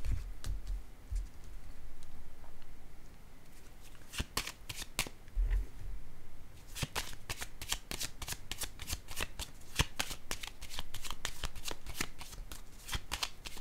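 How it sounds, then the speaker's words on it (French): Tarot cards being shuffled and laid down during a reading, a quick run of crisp riffling clicks and slaps that grows denser and more rhythmic in the second half, close and moderately loud with no talk. "Je vais déposer une autre carte ici."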